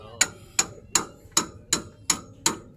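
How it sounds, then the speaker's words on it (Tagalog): Seven evenly spaced hammer blows strike the metal of an old-model motorcycle sidecar, sharp and close with a bright ringing edge, about two per second with no talking. "Kunting pukpok."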